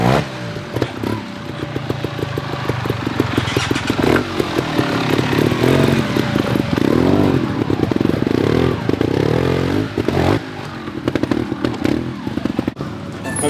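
A TRRS One RR 2026 300 injection trials motorcycle is ridden nearby, its engine revving and pulsing steadily for the whole stretch, with clattering mechanical noise mixed in and no talk.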